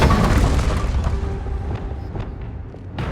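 An explosion spell cast in Hogwarts Legacy erupts as a deep, heavy boom that rumbles and slowly fades, with a few faint crackling pops trailing after it.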